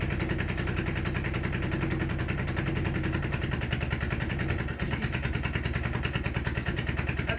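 A small old Bolens garden tractor engine, recently revived after sitting 40 years, idles steadily and evenly close by, with a continuous putter and light mechanical clatter throughout.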